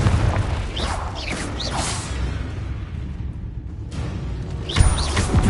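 A fiery Confringo spell blast in Hogwarts Legacy, with whooshing bursts, booming impacts and mechanical creaks mixed with combat effects, loud and close, with a sharp hit near the end.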